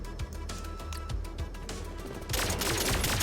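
Secondary-fire weapon shooting in the fast retro shooter Turbo Overkill, a dense rattle of gunfire over game music that swells louder and busier near the end, with no talk.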